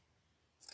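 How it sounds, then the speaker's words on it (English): Scissors make one brief, crisp snip through ribbon for a tree topper bow, close and clear after a near-silent moment. "let me cut it first."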